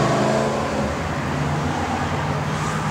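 The engine of a 1966 Chevrolet Nova wagon runs steadily, a continuous broadband rumble close by with no speech.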